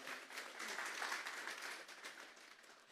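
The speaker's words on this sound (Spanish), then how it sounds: "Denle esa ofrenda de palmas a Dios en esta hora." A church congregation applauding during a Sunday service, a sustained wash of many hands clapping at moderate distance that thins slightly toward the end.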